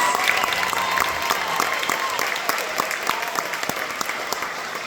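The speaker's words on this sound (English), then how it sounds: "Big round of applause for him, please." Round of applause from a concert crowd at a jazz event, dense clapping swelling then thinning toward the end with a few sharper individual claps.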